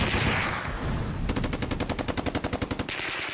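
Automatic gunfire during the Syrian uprising in Deraa, a loud sustained burst of rapid regular shots following a noisy stretch, then cutting off near the end.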